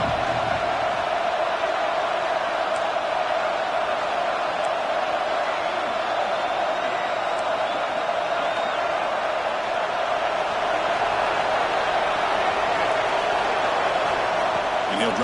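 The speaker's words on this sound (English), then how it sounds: "It's early, but this crowd is fired up. Listen to this noise here." A fired-up football stadium crowd roars in a steady, dense wall of noise that holds loud and unbroken throughout, with no single voice standing out.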